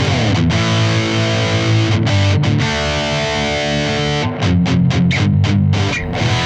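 A heavily distorted electric guitar through a rectifier amp model on a Boss GX-100 plays thick, sustained high-gain chords with a few short chugging stops, loud and upfront.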